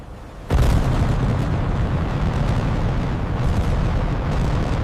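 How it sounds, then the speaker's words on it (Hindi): Missile explosions strike Karachi port in an animated war scene: a sudden heavy blast erupts, then a loud, sustained roaring rumble carries on without pause. "The explosions shook the entire area."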